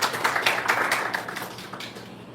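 Audience applause at a youth church gathering, a short burst of many hands clapping that is fairly close and fades slightly toward the end.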